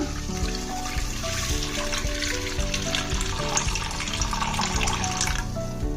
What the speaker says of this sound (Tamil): ஒரு 2 கப் அளவுக்கு தண்ணி சேர்த்துக்கலாம்.